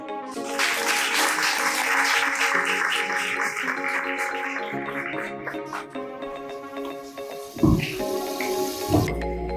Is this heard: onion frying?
no